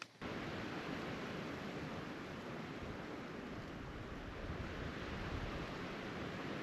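Steady broadband wind rush with a continuous watery wash beneath, from a stream flowing below a hillside lookout in the Texas Hill Country; constant and fairly loud throughout, no voices.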